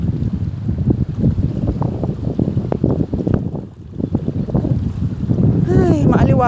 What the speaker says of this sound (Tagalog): Naririnig nyo yung tubig.